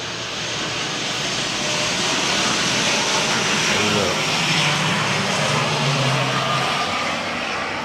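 An airplane flies low overhead beside an airport, a steady loud engine roar that swells and holds through the whole stretch, with no talking.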